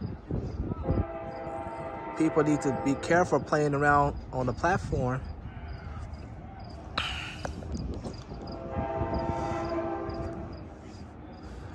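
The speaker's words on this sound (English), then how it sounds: "here comes the late Amtrak Capital Corridor train 741" A southbound Amtrak Capital Corridor passenger train rolls into Santa Clara Station, horn sounding in several blasts over rumbling wheels, while a person speaks a short announcement.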